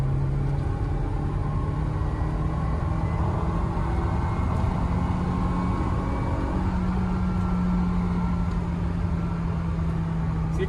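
A Porsche 944 engine drones steadily from inside the car while accelerating around 3500 rpm on a straight road, a continuous low hum with a sustained tone that rises slightly, and no voices over it.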